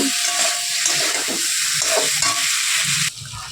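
Spice paste for a fish curry is sautéed in a hot pan, giving a loud, steady sizzle with stirring scrapes running throughout and easing off near the end.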